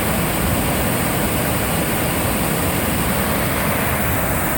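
Water pours through the intake grate of the Lopushna hydro plant on a river, a loud, dense, unbroken roar of rushing water up close, with no pauses from start to finish.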